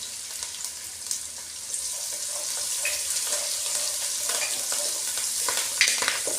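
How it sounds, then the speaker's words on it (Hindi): Green fenugreek leaves frying in a pan for lentils, a continuous sizzle with stirring scrapes and a few louder clatters toward the end, no voices. "अब हमने इसमें डालनी है हरी मेथी"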